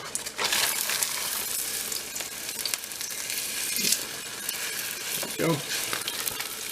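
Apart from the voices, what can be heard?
frying green onion cakes in a pan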